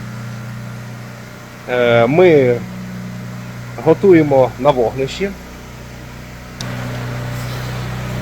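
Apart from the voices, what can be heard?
electric generator running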